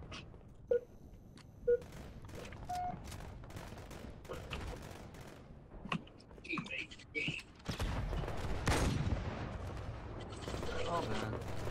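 Shotgun blasts and mixed gunfire in Halo Online (ElDewrito 0.6) Big Team Battle on Last Resort, several sharp separate booms early, then heavier sustained firing and explosions, with a voice talking over the action.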